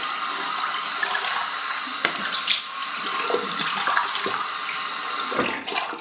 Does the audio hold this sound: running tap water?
yes